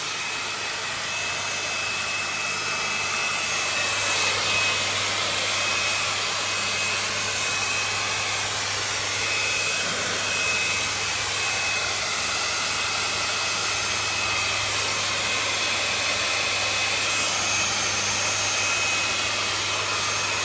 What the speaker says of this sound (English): Let it get a little warm and just blow it on the sensor.